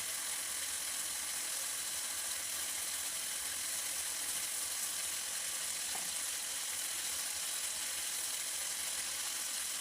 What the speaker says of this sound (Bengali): আমি কোনো মুরগির মাংসটা সুন্দর করে কষিয়ে নিচ্ছি।